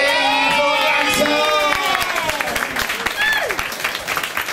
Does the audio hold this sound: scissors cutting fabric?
no